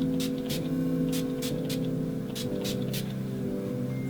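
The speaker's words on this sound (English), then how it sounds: "I'm going to set everything with NYX Matte Setting Spray." NYX Matte Setting Spray is misted onto a face in about eight quick, sharp spritzes at an irregular pace, each a brief hiss over a steady low hum.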